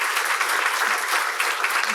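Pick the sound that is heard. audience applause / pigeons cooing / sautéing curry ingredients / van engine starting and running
audience applause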